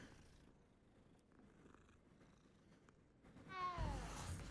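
A cat purrs while being petted in the Hogwarts Legacy video game, a low steady rumble running through the first seconds before a brighter, louder burst of game sound near the end.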